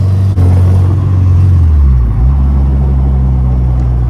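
A Honda Integra Type R, right-hand drive, drives on a rough, badly surfaced road. Engine rumble and road noise fill the cabin loudly, with a strong low drone that dips briefly as the gear changes, then carries on steadily.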